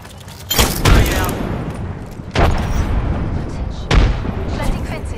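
Video game combat with frag and thermite grenades: three heavy blasts or bursts of gunfire land at regular intervals, each trailing into a rumbling roar, loud and close.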